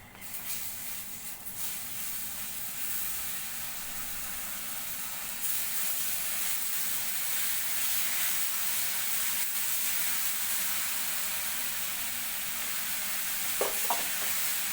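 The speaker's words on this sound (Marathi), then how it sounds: "आता त्याच्यामध्ये आपण हे गरम केलेलं पाणी टाकून घेणार आहोत" Steady, loud sizzling hiss from hot water hitting roasted rice for corn rice, with faint stirring scrapes and a couple of clinks near the end.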